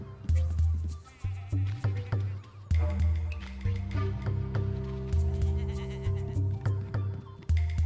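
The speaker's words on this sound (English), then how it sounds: "We have some sheep. You can whack them." Cartoonish sheep bleat over and over in the Nicktoons Summer of Fun video game, loud and close over steady looping game music, with no talking.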